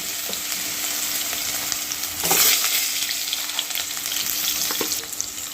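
Potatoes with onion and turmeric fry in a pan for a fish roe fritter curry, giving a steady close sizzle with a brief louder burst of crackling as the pan is stirred.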